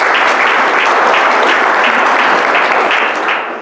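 An audience at a scholars' induction ceremony breaks into loud, sustained applause, a thick even wash of many hands that starts to fade at the very end.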